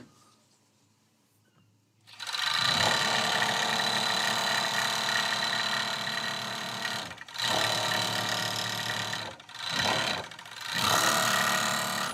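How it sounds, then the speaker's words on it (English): An industrial serger sews loudly and steadily, starting after a quiet opening, then stopping briefly twice before starting again and running on. "This, by the way, is an industrial serger"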